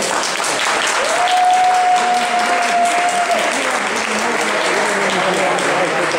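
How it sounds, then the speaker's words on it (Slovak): Sustained applause from an audience at an award ceremony for a third-place winner, loud and steady clapping throughout with a tonal sound held briefly over it. "Takže veľký potlesk pre ňu."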